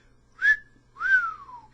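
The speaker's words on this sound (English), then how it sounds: "Her companion's whistle" A person whistles two clear notes, the first short and steady, the second a longer falling glide, set in a quiet room within an audiobook reading of Edith Wharton's The Custom of the Country.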